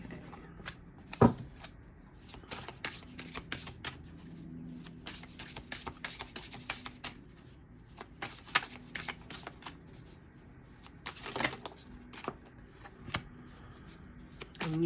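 Tarot cards riffled and shuffled by hand in a quiet room, a steady run of soft papery flicks and taps with a few sharper snaps, close and alone with no talking.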